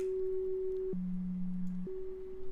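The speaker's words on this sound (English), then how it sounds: "That's how you get a police siren." A synthesized siren-like tone steps back and forth between two pitches in a slow square-wave pattern, clean and steady, with no talking.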